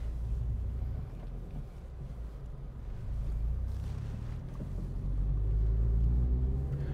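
Inside a moving car's cabin, a low road rumble drones steadily, swelling slightly toward the end, with no voices over the engine and tyre noise.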